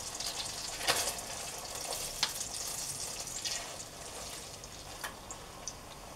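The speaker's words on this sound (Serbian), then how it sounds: "Maslac se otopio i stavit ćemo šnicle da se malo proprže na njemu." Schnitzels fry in melted butter with a steady, soft sizzle, broken by occasional sharper crackles and pops, close by and fairly quiet.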